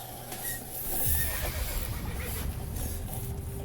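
Horse whinnying and neighing in the video game Assassin's Creed Origins, a stallion calling loudly across the clip with faint hoof clip-clop beneath, steady game ambience and no talk.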